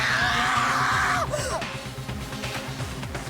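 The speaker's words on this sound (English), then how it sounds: "a wild, almost primeval scream escaped from my mouth" Loud, drawn-out scream in the video game Danganronpa: Trigger Happy Havoc, a strained voice for over a second that breaks off into gasping, over a pulsing low musical backing.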